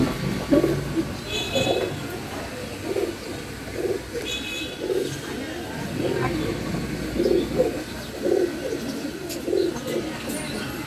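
Pakistani breed pigeons coo in a loft, soft low rounded calls repeating at a fairly regular rhythm, close by, over a faint background hum.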